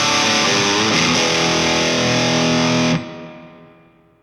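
An electric guitar runs through a spring reverb on a Line 6 Helix, a loud distorted sustained chord ringing for about three seconds, then cut off to a reverb tail that fades out, with no talking.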